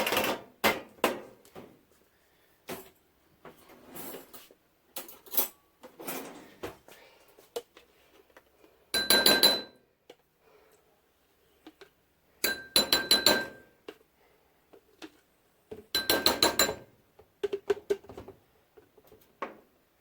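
Homemade butter made from heavy cream is scooped out of a shaker into a container, producing bursts of scraping, clinking and knocking with quiet gaps in between, close by and fairly loud.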